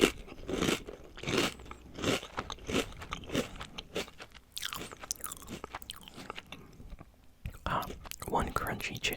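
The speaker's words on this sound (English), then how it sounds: "let me eat one of these chips over here" A crunchy chip is bitten and chewed close to the microphone, giving several sharp crunches and crackly chewing sounds in uneven bursts, mixed with soft whispered speech.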